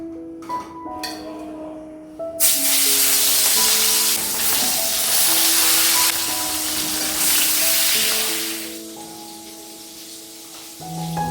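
Fish with ridge gourd and potato frying in a home kitchen pan; a loud sizzle starts after a moment and sustains with stirring scrapes, while background music plays throughout.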